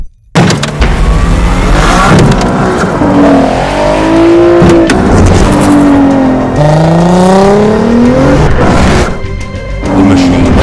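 A Nissan GT-R drifts at over 300 km/h, engine wailing and rising and falling through gear changes with tire noise, loud and close, while a voice talks over it.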